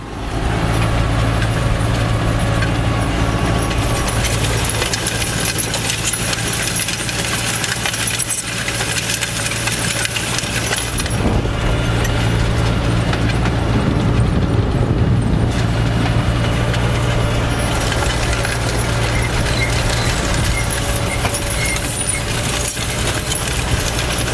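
A Tümosan 8195 tractor engine labours steadily while driving uphill on a field during wheat sowing, a loud continuous low drone with rattling and clanking throughout, close to the microphone and without talk.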